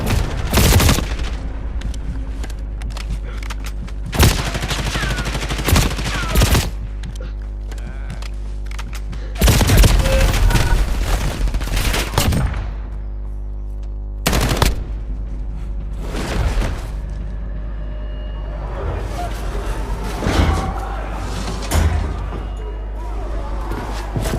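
Gunfire in an online battle royale shooter with a Gulag redeployment mode: loud bursts of shots and booms come in clusters over a steady game background, with a voice speaking between the volleys.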